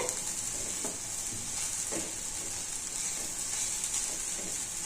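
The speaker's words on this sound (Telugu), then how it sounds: "వేడి మీద ఉంటుంది కదా, బాగా నువ్వులు కూడా ఏగుతాయి." Sesame seeds frying in hot oil on a stove, a constant bright sizzle with soft scraping stirs recurring every second or so.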